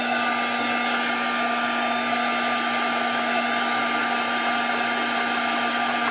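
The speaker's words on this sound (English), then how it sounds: "I'm going to use the heat gun on this. You can cure liquid clay with the heat gun." A heat gun blows a constant, loud whirring hiss as it cures liquid polymer clay on a tile, running unbroken with no voices.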